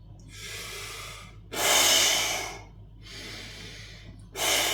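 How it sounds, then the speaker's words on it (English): Close, deliberate breaths in through the nose and out through the mouth, alternating in slow cycles with a pause between each inhale and exhale, loud and near with no talk. "breathing in through your nose and out through your mouth is one good technique"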